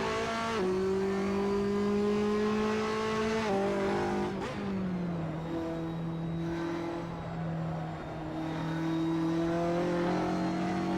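A race car engine on a warm-up lap in a racing sim drones steadily and close, its pitch holding, dropping at gear shifts and climbing again, with a faint tyre squeal.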